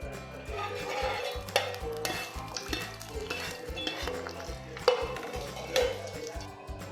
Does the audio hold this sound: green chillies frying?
yes